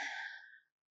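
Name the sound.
deep breath in yoga class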